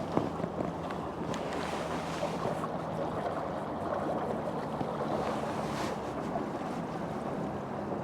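Small boat driven by an Epropulsion electric outboard motor speeding up on open water, a steady broadband rush of hull and water noise with wind buffeting the microphone, continuous and fairly loud throughout.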